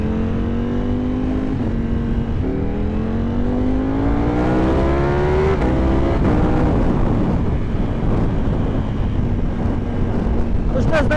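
Riding a Ducati motorcycle: a steady loud engine drone with rising and falling tones as it accelerates and shifts through gears, heavy wind rush over the microphone throughout.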